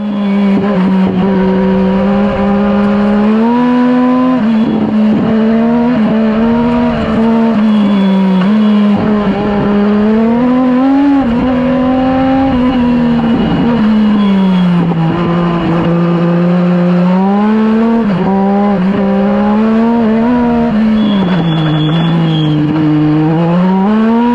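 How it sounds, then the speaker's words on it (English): A small race car's engine revs hard and continuously while it drifts sideways through a slalom run, the pitch rising and falling with each throttle change, loud and close with no talking. "I was overdriving just about everywhere, so you can see it was just super tail happy. I was drifting everywhere"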